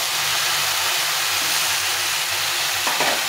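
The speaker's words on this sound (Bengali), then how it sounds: "বেশ কিছুটা সবজি ভেজে নিয়েছি।" A loud, steady sizzle of mixed vegetables frying in a pan, with a brief stirring scrape near the end.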